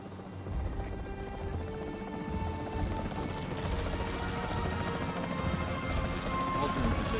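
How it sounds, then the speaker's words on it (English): A capture team helicopter in a video game roars steadily nearby, its rotor and engine noise holding constant and swelling slightly toward the end, with mechanical clanks and game effects layered over it. "The priority needs to be tranquilizing it with the capture team chopper."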